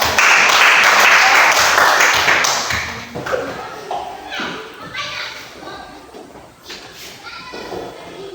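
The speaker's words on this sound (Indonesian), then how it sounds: "Kita berikan tepuk tangan." A burst of clapping from a classroom group, loud at first and then tapering off into scattered claps while children chatter and talk over it.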